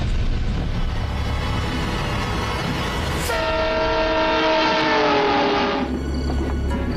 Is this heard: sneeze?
no